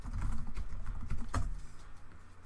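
Typing on a computer keyboard, a close, quiet patter of irregular key clicks with one sharper keystroke near the middle, heard without talking.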